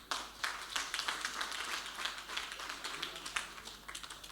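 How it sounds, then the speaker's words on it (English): A room full of people at a ministerial press briefing claps in a dense, even patter that holds steady for several seconds, sounding moderately distant. "I want us to give her another round of applause."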